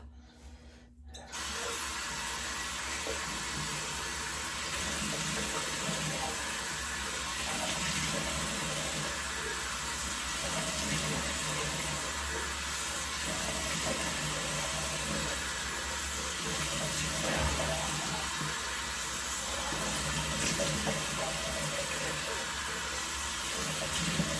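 Tap water runs steadily and continuously at a sink, rinsing shaving lather off a face, a broad hiss with faint splashing and no talk.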